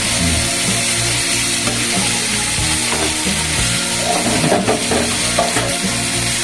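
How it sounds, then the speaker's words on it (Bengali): Food frying in a pan while cooking rohu fish curry with broccoli and new potatoes: a loud, continuous sizzle overlaid by repeated scraping and stirring strokes, with background music playing throughout. "এটা ভাজা হোক"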